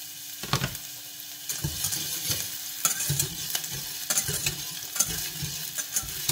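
Sliced white onion frying in a pan for Szechuan mala dim sum, a quiet sizzle broken by repeated scraping stirs in an irregular rhythm, close by with no talking.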